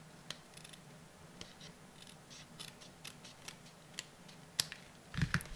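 Scissors snipping card paper to trim panels for a tri-slide fold card, a handful of quiet, sparse clicks and cuts spread across a hushed tabletop, with one brief spoken word.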